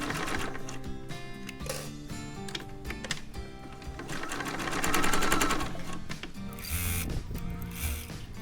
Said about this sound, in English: Let's start chain sewing.